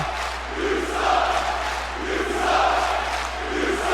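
Arena crowd in a wrestling video game, a Buffalo audience, roaring and chanting steadily for the whole stretch, swelling in waves with no clear voice standing out.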